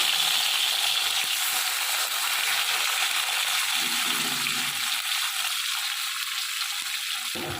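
Oil sizzles steadily and loudly as fish fries, a constant bright crackle with a few soft knocks and scrapes from the pan.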